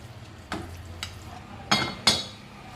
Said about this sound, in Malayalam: ഇനി ഈ റവ മിക്സും വെജിറ്റബിൾസ് എല്ലാം കൂടി നന്നായിട്ടൊന്ന് മിക്സ് ചെയ്തെടുക്കണം